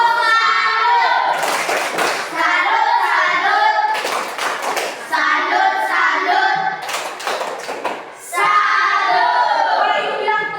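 Schoolchildren in a fourth-grade classroom perform the rhythmic 'tepuk salut' clapping cheer, loud bursts of patterned hand claps alternating with chanted group voices in a close, lively room.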